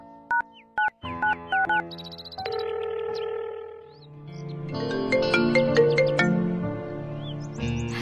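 A phone call rings out in a dramatic scene: several short, evenly spaced ringing tones sound clearly at first, then fade under swelling background music.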